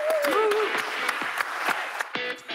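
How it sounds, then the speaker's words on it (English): Festival crowd at the Northumbrian Water Innovation Festival 2021 cheering and clapping, with a whistle-like tone and scattered claps over a continuous bright wash of noise that drops off near the end. "Let's have a cheer, everyone."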